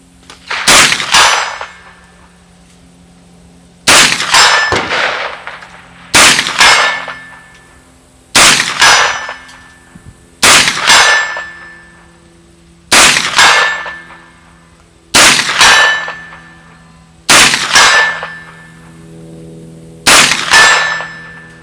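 FM-9 rifle fired at a steel target 100 yards away, nine loud evenly spaced shots about every two and a half seconds, each followed by a faint ringing clang from the steel, with no talk.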